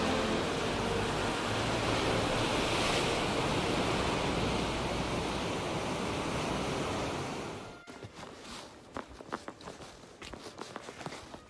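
Ocean surf on a stormy coast roars as a loud, continuous wash of breaking waves with wind, then cuts away to quieter footsteps walking.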